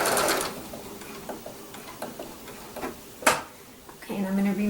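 A sewing machine runs in reverse while machine-binding a quilt with a blanket stitch, giving short mechanical bursts, a few taps, then a steadier motor whir near the end, close and fairly quiet with a faint voice in the background.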